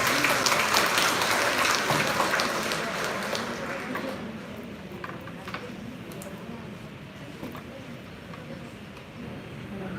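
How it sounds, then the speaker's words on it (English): A crowd applauds inside St. Joseph Church, loud at first and gradually thinning into scattered claps, with murmuring voices underneath. "can we give them a round of applause?"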